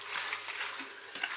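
Chicken stir-frying in a pan over high heat for a chicken curry, a steady close sizzle with soft scraping stirs running through, and no voices.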